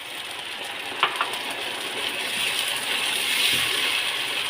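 Chilli chicken masala sizzles steadily in a pan just after cornflour goes in, a continuous close frying hiss with a couple of brief clinks of a utensil early on.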